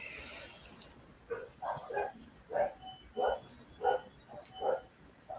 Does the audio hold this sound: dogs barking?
yes